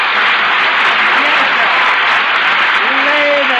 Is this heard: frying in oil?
no